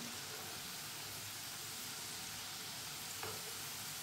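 Potato fries sizzle steadily in hot oil in a pan as they are stirred around, a constant dense frying hiss with one faint clink near the end.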